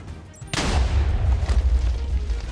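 Cannon firing in the video game Minecraft: a sudden deep boom hits, then a long rumbling roar with low crackle that stays loud for about two seconds.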